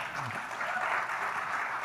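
An audience keeps up steady, dense applause, a continuous wash of clapping with no distinct breaks.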